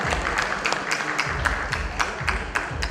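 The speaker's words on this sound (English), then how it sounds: "Great round of applause." An audience applauds at a fellowship certificate ceremony for an echocardiography academy, steady crowd clapping with a few sharper individual claps standing out in a loose repeating rhythm, fairly close and continuous throughout.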